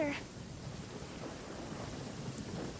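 Rain falls in the video game Genshin Impact as a steady, soft hiss of rainfall with a low rumble of thunder underneath, continuous and fairly quiet throughout.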